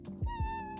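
A house cat gives a short, close meow with a tonal, wavering cry, broken by a few low thumps.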